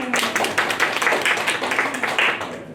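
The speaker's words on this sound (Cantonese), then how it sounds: "掌聲。" An audience at a teachers' workshop gives a burst of lively applause, dense, fairly loud and continuous throughout.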